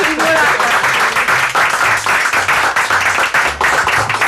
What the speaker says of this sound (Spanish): Un aplauso para Con un Matices.